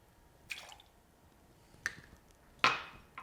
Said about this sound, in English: Next, add a ½ ounce of fresh squeezed lemon juice.